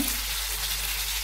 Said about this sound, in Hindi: टमाटर डालने के बाद उसको फिर हम पका लेते हैं